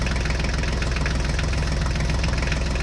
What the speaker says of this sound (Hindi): चलो फोर्ड ट्रैक्टर अब इस ट्रक गाड़ी को बाहर निकालो।